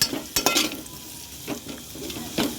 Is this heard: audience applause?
no